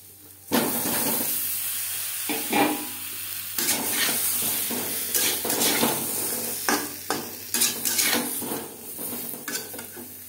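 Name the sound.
boiled potatoes frying in mustard oil with turmeric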